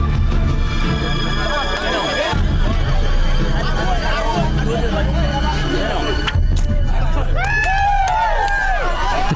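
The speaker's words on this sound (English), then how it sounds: "The crowd roars." A dense crowd roars and clamors continuously at a traditional beating match, loud and close, with shouts and cheers rising over a constant wall of voices.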